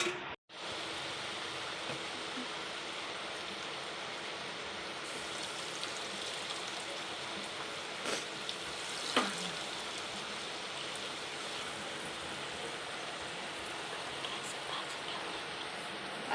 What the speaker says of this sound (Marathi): आता आपण बटाट्याची भजी कमी गॅसवर भाजून घ्यायचे.